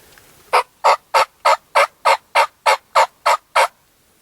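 Wild turkey gobblers in Kansas gobble eleven times in a steady, evenly spaced series, loud and close, with nothing else underneath.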